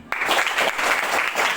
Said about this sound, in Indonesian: Tepuk tangan buat Jordan.